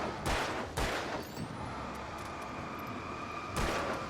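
Gunfire in Alan Wake: a few sharp shots sound, two close together near the start and one more toward the end, over a steady low rumble of game ambience.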